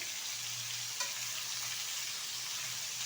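Pieces of ridge gourd and potato fry with turmeric powder in a pan, giving a dense, steady hiss with a single faint tap of a utensil partway through.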